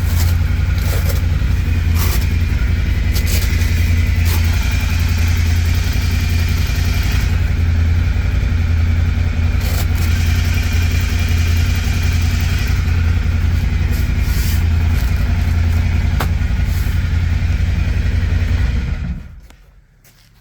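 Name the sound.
Intimidator UTV engine running with heat and noise shield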